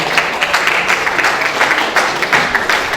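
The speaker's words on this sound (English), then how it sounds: "another round of applause," An audience applauds at a junior staff training event, with steady, fairly loud clapping and a rhythmic pulse of hand claps running throughout.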